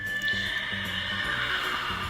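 A horse neighs in a long whinny with steady tonal harmonics, backed by a low rhythmic pulse that could be hooves or music, loud and continuous with no speech.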